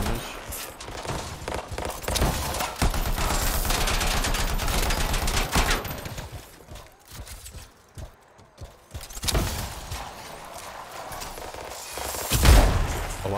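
Gunfire in the video game Anthem: dense, rapid bursts of automatic weapon fire with mechanical clatter, loud and sustained for several seconds, then a sparser lull with scattered shots and a final sharp blast.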